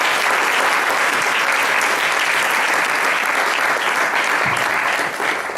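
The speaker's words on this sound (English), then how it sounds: "Can we give a round of applause?" Dense, loud applause from a large audience at a Mahasamadhi Day gathering, steady and sustained throughout with no pauses.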